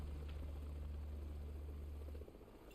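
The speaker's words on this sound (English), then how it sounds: "the helicopter just decides it's time to leave" Low rotor drone of a departing helicopter in Final Fantasy VII Remake, a faint steady thrum that cuts off abruptly near the end, leaving quieter background ambience.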